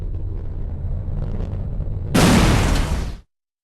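A weapon strike explosion in Quake Wars Enemy Territory erupts as a loud, broad blast over a low rumbling bed, roaring for about a second before cutting off abruptly into silence.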